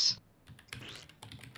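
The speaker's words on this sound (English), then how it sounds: "Intense typing noises." Someone types intensely on a computer keyboard in a short, fast burst of clustered key clicks with a brief pause between.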